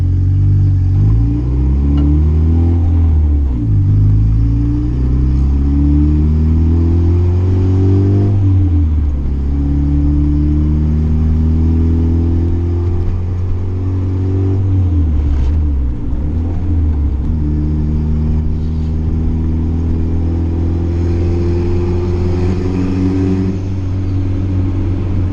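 A turbocharged Honda CR-V running E85 makes repeated hard acceleration pulls from inside, its engine drone climbing steadily in pitch through each gear, then dropping at the shifts, loud and continuous.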